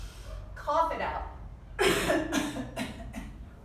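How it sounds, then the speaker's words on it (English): People in a yoga class cough breath forcefully out of the mouth, several short rough bursts in quick succession, close and fairly loud. "Cough it all the way out."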